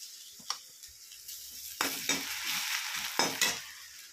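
Onions sizzle in a kadai previously used for frying fish, a steady close frying hiss broken by several sharp stirring scrapes and clinks of a spoon against the pan, with no talking.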